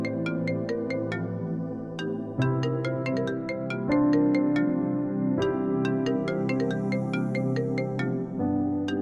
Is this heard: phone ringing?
yes